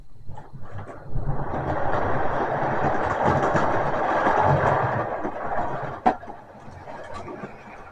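A model railway train runs along its track with a steady rolling rumble and clatter, and a single sharp click stands out near the end. No voices are heard.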